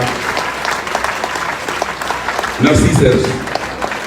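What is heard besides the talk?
crowd applauding at a rally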